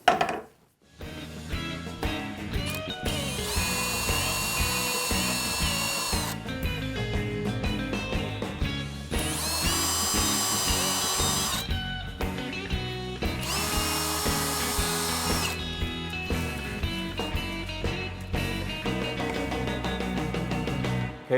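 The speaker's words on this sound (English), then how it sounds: "I put an 1/8 inch bit in the driver. Just going to go ahead and drill those holes." A power driver with a 1/8 inch bit drills holes in several long whirring bursts, each lasting a few seconds with short pauses between, loud and close with no talking.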